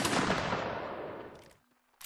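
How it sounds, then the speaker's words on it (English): Loud bursts of rapid gunfire in a shooting video game, sustained for over a second and a half before dropping to near silence, then a fresh burst of shots. "Hold right here, fire real quick."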